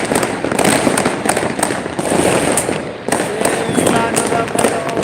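Fireworks and firecrackers burst repeatedly all around at a New Year's celebration, a dense barrage of near and distant bangs and crackles with overlapping echoes.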